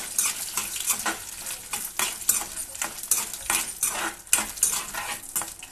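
Dried red chillies fry lightly in a pan for vankaya pachadi (brinjal chutney), with steady sizzling broken by repeated scraping and clinking stirs of a metal spoon, close and fairly loud, no voices.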